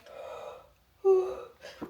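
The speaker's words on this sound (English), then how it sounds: "the sun is still up and I'm already yawning" A person yawns out loud indoors, a drawn-out breathy voiced sound that swells and fades, followed by a short intake of breath.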